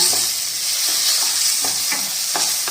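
Lentils and dried red chillies crackling in hot oil for a simple sambar, with a steady broadband sizzle and soft periodic stirring clicks, close and continuous.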